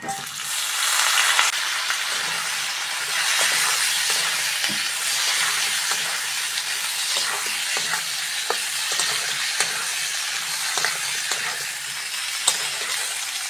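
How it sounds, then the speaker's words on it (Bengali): Potatoes frying with onions in a pan, stirred steadily with a spatula; a continuous close sizzle runs throughout with repeated scraping clicks. "আলুটা পেঁয়াজের সঙ্গে ভালো করে ভেজে নেব।"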